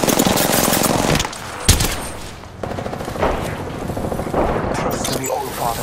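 Apex Legends gunfire rattles in loud, rapid automatic bursts at close range. A heavy boom lands near the middle, and game voice lines play under the shooting.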